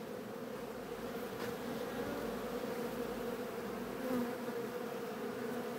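Honey bees buzz steadily at a hive, a continuous, faint, droning hum with no breaks and no talking.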